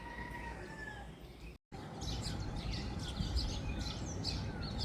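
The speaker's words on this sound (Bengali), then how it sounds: "সকালবেলা পাখির কিচিরমিচির শব্দগুলো এত সুন্দর লাগতেছে" Morning birdsong outdoors: several birds chirp and tweet continuously at moderate distance, with a brief silent break partway through before the chirping resumes, slightly busier and brighter.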